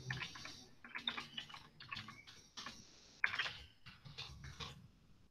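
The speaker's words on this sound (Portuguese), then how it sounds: "hoje tá difícil esse teclado." Typing on a computer keyboard, uneven bursts of close, clicking keystrokes with short pauses and one sharper louder tap partway through, no talk.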